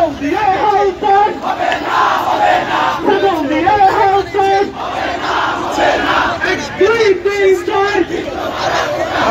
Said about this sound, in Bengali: বিভিন্ন হল থেকে বেরিয়ে এসে কিন্তু তারা কিন্তু নানা স্লোগান দিচ্ছেন